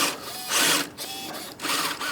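The motor and steering servo of a Vanquish VS4-10 Phoenix straight-axle RC rock crawler whine up close as it climbs over rocks, in three short surging bursts with brief dips between them.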